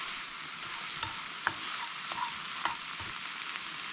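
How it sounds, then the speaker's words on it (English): Parsley being stirred through food in a sizzling pan, a soft steady frying hiss with a few sharp utensil taps and scrapes, close and unaccompanied by speech. "Stir that through."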